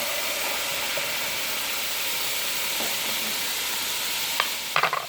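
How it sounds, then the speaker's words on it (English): Butter sizzles and hisses steadily in a hot pan, a constant frying crackle, with a few faint clinks near the end. "And then while that is sizzling, you'll see it's like starting to sizzle"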